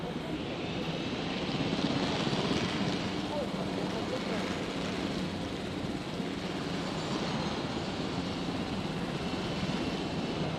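A helicopter in the dinosaur park-building game Jurassic World Evolution gives off a steady, continuous rotor and engine drone that stays loud and even throughout, with no clear talking over it.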